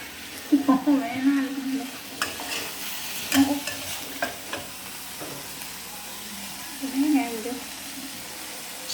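Home-picked chilies stir-fry in a pan for a Thai basil stir-fry with egg, sizzling under scraping spatula strokes and clatters, while a voice talks intermittently over the cooking.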